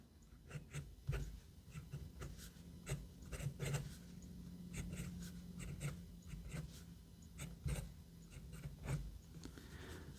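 A matte silver Iraurita pocket fountain pen with a rounded standard nib scratches softly across paper in quick, irregular strokes, faint and close with no talking.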